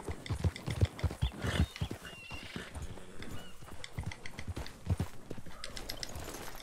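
Rhythmic horse hoofbeats in the video game Red Dead Redemption II clip-clop steadily, with occasional brief snorts and a faint whinny over a busy game background.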